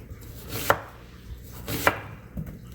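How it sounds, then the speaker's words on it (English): A knife chops an onion on a cutting board with two distinct, well-spaced thuds, close and clear against a quiet kitchen background. "I'm gonna cut this onion up."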